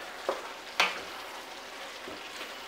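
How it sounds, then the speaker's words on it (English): Chili made with bear meat gets a little stir after bay leaves go in, producing a soft steady simmering hiss with two brief spoon knocks against the pot, close up and with no talking. "I'm going to take my bay leaves, throw them in there, give it a little stir"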